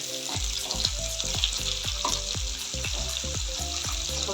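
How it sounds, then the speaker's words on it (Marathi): Onion, garlic paste, mustard seeds and curry leaves sauté in a hot pan for a tendli dish, giving a steady close sizzle broken by regular spatula scrapes and stirs in a quick rhythm. "थोडंसं हा तांबूस रंगाचा होतं त्याला परतून घ्यायचं। कांदा तर परतून झालाय"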